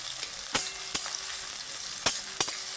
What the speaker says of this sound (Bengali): এটাকে পেঁয়াজটাকে আমি খুব সুন্দর করে একটু ভাজবো, লাল টকটকে করে একদম।